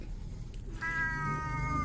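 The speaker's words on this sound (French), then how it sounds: "il miaule, il miaule" A cat gives one long, drawn-out meow nearby, rising out of a low background rumble.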